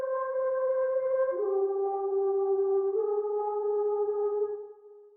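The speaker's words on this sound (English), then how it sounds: "Then lastly, I added the flute." Sustained tonal melody in an FL Studio beat: a flute loop played alone, stepping down from one held pitch to another and then resting on a low note for several seconds, fairly loud and steady before fading out at the end.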